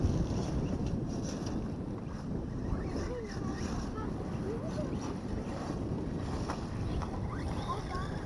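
Steady, heavy wind buffeting the microphone outdoors near water, a broad low rumble running through the whole stretch with faint water and boat sounds beneath it.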